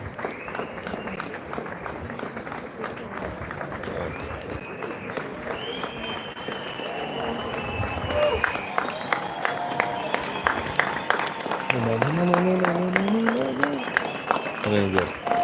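A crowd at Mt. Rushmore claps and applauds continuously, swelling louder partway through, with people talking and calling out over the clapping.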